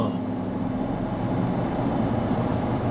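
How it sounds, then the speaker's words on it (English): A truck rolls past on the road, a broad low rumble of engine and tyre noise that holds steady at moderate loudness across the few seconds, with no voices over it. "Car. Actually, that's a truck."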